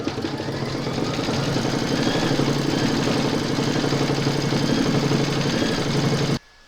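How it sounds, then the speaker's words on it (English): Embroidery machine stitching a round on hooped fabric, a steady, close mechanical whir with fast rhythmic needle pulses that runs evenly and then stops abruptly. "Pop your hoop into your machine and stitch round number 3 to secure it."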